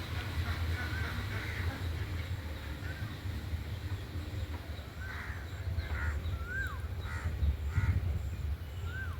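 Several crow caws ring out across an evening rural yard, faint and somewhat distant over a low constant rumble, with a few hoarse calls clustered toward the end.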